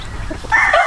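Close fighting rooster vocalizing, a short clucking and squawk rising into a louder call at the end, with no speech.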